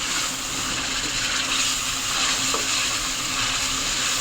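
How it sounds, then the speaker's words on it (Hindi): Chicken sizzles and fries in oil with garlic and ginger while it is stirred, a steady close crackle with faint scraping and no voices. "लहसुन अदरक के साथ इसकी करेंगे बुनाई 2 से 3 मिनट।"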